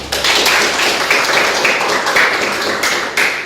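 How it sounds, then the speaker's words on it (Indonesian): Applause from a classroom audience during a teaching practice session, a steady broadband patter of many hands clapping close by for several seconds. "Aplaus untuk Irma."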